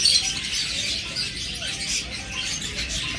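Pet lovebirds and budgerigars kept for sale chirp in a steady, bright chorus of high twitters from many birds at once, fairly close and continuous with no talking.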